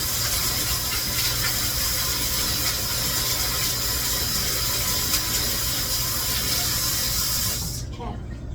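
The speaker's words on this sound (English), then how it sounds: "let's wash my hands first" Tap water runs steadily into a sink while hands are washed for a recipe, a continuous broad hiss lasting several seconds before the flow cuts off near the end.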